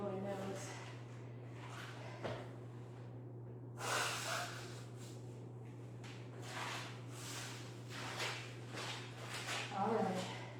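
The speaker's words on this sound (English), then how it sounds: "I'm just going to blow my nose." A few sharp, breathy bursts of nose blowing rise over a steady low electrical hum, with quieter sniffs and breaths in between.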